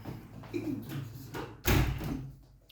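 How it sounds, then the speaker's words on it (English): A door is pushed shut indoors, with soft shuffling and handling at first and then a solid, close thud of the door closing, followed by a fading rumble. "Close this door."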